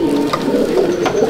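A pigeon coos in a pigeon loft at Barrackpore, a low continuous throaty murmur close by, steady and alone without any talk.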